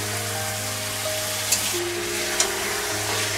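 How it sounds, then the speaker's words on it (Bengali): Mutton sautéing in a pan for biryani gives a steady, dense hiss, with two brief clicks partway through and no voices. "মাংসটা আমি একটু কষিয়ে নিয়েছি।"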